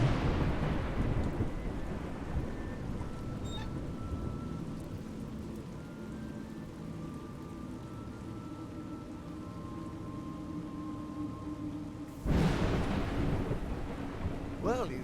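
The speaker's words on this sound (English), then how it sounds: "It's raining." Steady rain falls under low rumbling thunder in the video game A Juggler's Tale, with a louder burst of rain and rumble near the end.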